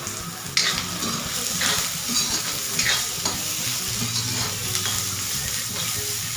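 Onions frying in a pan for a Malvani egg curry, with a steady close sizzle and occasional stirring scrapes throughout.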